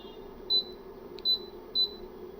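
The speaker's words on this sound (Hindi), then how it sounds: "ज़ीरो पे आते ही बीप बज जाती है," Three short, clean electronic beeps evenly spaced from a telescope's digital leveling device as its reading hits zero, set against a faint steady hum with no talking.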